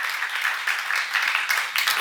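A church congregation at a Korean seminar applauds together, a continuous, even patter of many hands clapping that sounds slightly distant and reverberant, with no talk over it.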